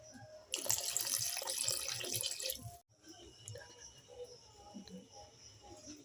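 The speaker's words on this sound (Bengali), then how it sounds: "এবার জল দিয়ে দেবো।" Water poured from a vessel into a cooking pot holding spice paste, for a green banana dish in a village kitchen, a loud steady splashing pour lasting about two seconds that then stops, with faint background sounds and some talk afterward.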